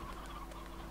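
Chickens clucking in the video game Slime Rancher, a steady low murmur of fowl sounds over a constant hum with no talking.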